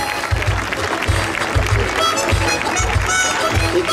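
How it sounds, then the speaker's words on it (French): Spectators clapping at an outdoor equestrian show, continuous applause mixed with a regular series of low thuds, likely hoofbeats, repeating about every half second at fairly close range. "Sous vos applaudissements."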